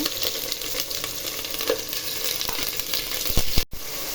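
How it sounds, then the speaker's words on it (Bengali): Onions frying and browning in a pan before beef tripe is cooked, a steady close sizzle with occasional clicks and scrapes of a spoon, and a sharp knock near the end. "গরুর ভুড়ি রান্না করবো এই জন্য পেঁয়াজটা একটু আমি লাল লাল করে নিলাম"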